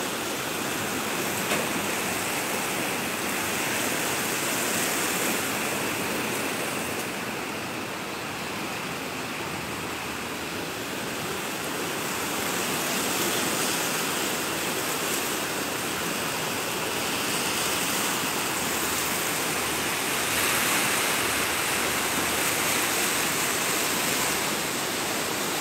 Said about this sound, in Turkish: Fındıklı köyünde yağan yağmur bu kadar işte.